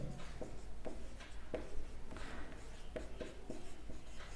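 A pen or pencil writes down an answer on paper for a Class 10 surface area and volume problem, giving steady close scratchy strokes with short regular taps, alone without talk.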